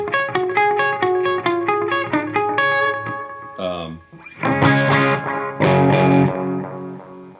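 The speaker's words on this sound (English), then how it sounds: "Got a little bit of delay there." Electric guitar notes picked in a quick pattern with repeating delay-pedal echoes trailing each one, then louder sustained chords with a bright, processed tone.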